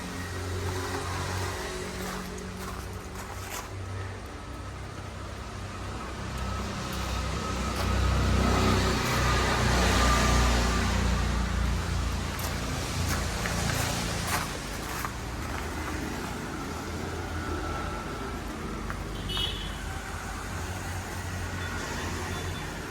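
A used 2011 car's engine runs steadily, swelling briefly as if revved partway through, then settling back to a low idle hum with faint background clatter.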